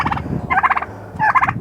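A pet turkey gobbles twice in rapid rattling bursts, loud and close, with low clucking between the calls.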